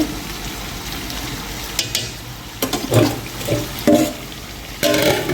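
Chicken biryani cooking in a pot gives off steady sizzling and frying with a few louder scrapes and stirs, close up and without talk.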